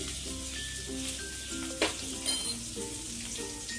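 Onion and chili frying in a pan for moong palong, a steady close sizzle with bubbling crackle throughout and a few brief louder pops, with no voices.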